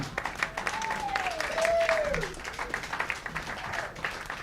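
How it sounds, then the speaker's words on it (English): A Broadway cabaret audience applauds steadily throughout, with a voice calling out over the clapping partway through. "Please, a round of applause for Karen Oberlin,"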